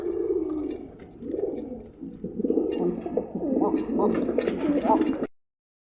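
Pigeons cooing on a Bangladeshi pigeon farm, soft repeated throaty coos overlapping one another at close range, with someone talking over the birds for most of the stretch.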